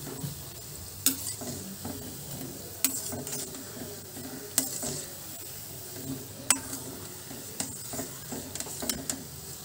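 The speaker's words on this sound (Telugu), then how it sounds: "ఈ విధంగా టర్న్ చేసుకుంటూ ఫ్రై చేసుకోవాలండి" Gulab jamun fry in oil with a soft steady sizzle, while a utensil turning them knocks against the pan in sharp clicks every couple of seconds.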